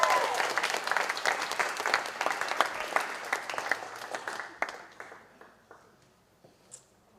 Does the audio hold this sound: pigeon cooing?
no